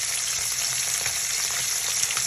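Tilapia steak frying in a pan, giving a steady, close, broadband sizzle with soft crackles that holds unbroken throughout, with no voices.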